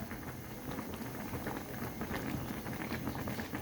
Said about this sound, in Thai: ตอนนี้แกงก็สุกได้ที่แล้วนะคะ ให้เดือดแบบนี้เลยนะคะเพื่อน